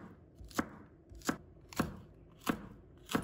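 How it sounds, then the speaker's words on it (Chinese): A knife slices green peppers diagonally on a cutting board, five crisp, evenly spaced chops, quiet and close, with no speech. "再用斜刀切成片"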